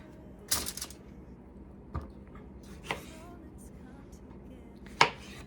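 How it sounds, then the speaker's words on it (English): Knife quartering fresh tomatoes for tomato soup, heard as a few separate sharp chops on a board spaced about a second apart, with quiet pauses between them. "I'm just gonna quarter these tomatoes"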